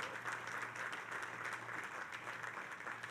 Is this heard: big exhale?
no